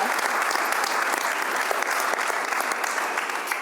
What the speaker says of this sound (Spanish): Otro aplauso para vosotros